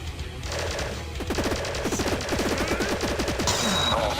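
Rapid shots fired in the platformer I Wanna Be The Boshy, a fast stuttering string of small electronic blasts in quick bursts over game music, close and steady for several seconds.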